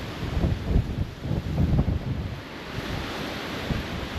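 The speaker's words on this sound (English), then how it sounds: "It's too windy." Steady wind gusting across an outdoor space at Bosjes Chapel, South Africa, with a broad rushing roar that swells and eases over a few seconds, no voices.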